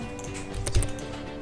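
Computer keyboard keys are pressed in a short burst while entering AutoCAD commands, ending with one firmer keystroke on Enter. The taps are close and fairly quiet, with no speech over them.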